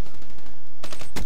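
XR-2 rifle firing in bursts in Call of Duty Black Ops 3: two sharp, loud volleys of rapid shots close together, separated by a short gap, with no talking.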